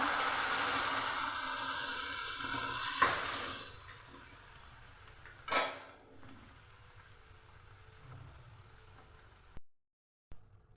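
Boiled pumpkin and vegetable stems fry in a pan, making a broad hiss that fades over time, broken by a few sharp clinks and scrapes of a utensil before the sound cuts away near the end.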